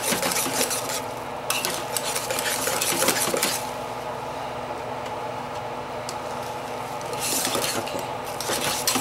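A hot batch of coastal shave soap mixture being stirred in a pot gives steady scraping and clinking of the utensil against the metal, close and loud, in a few bursts over a soft sizzling bed.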